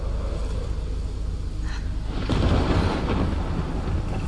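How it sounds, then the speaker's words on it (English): Rumbling thunder in the video game Life Is Strange: a low, steady storm bed swells into a louder, broadband crack and roll midway through, then stays heavy. No voices are heard. "Why the thunder?"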